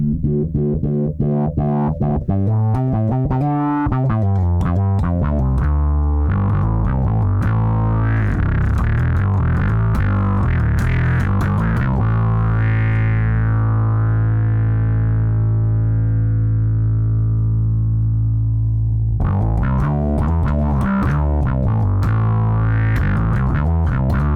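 A distorted bass guitar plays through a Keeley Electronics effects pedal with its sensitivity turned down, with choppy phrases, a long sustained note that fades, then more rhythmic playing.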